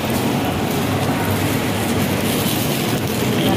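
MRT train running on its rails, a loud steady rumble and rattle filling the space, heard from close by without speech.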